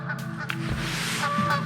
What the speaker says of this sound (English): These birds are a little loud,